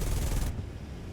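Stock cannons on an A-4E Skyhawk firing in War Thunder, a loud dense burst of rapid shots that cuts off abruptly halfway through, leaving a quieter cockpit hum.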